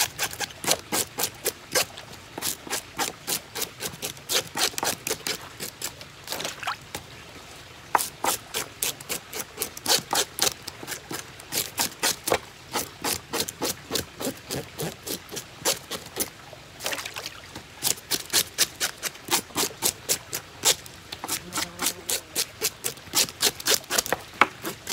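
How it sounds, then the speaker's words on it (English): White perch being scaled by hand, a rapid rasping scrape repeated in quick bursts with short pauses between strokes, close and steady over the whole stretch. "We'll scale a couple more."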